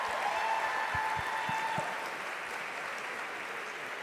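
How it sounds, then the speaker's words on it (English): Audience applause at a live recitation competition finale in London, a steady wash of clapping that holds for the whole stretch and slowly eases, with a few louder claps and low thumps near the start. "Round of applause, please."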